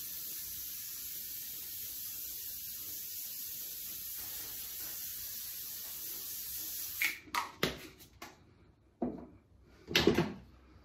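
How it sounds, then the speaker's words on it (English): Hairspray sprayed onto a hairpiece as a long, steady hiss lasting several seconds, followed by a few clattering handling knocks and rustles. "spray it with hairspray so it stays."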